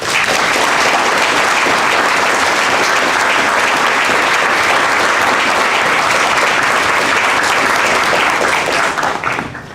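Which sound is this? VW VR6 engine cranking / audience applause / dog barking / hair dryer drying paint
audience applause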